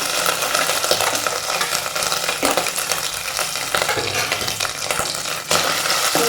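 Chopped tender coconut pieces fry in ghee with a loud, continuous sizzling hiss, broken by occasional scrapes and stirs in the pan. No one speaks.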